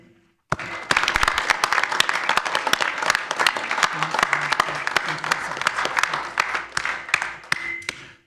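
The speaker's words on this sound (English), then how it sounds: "So a round of applause to the whole fire department." A small audience at a village board meeting applauds the fire department, crisp close-up clapping that starts suddenly, holds steady for several seconds, then tapers off.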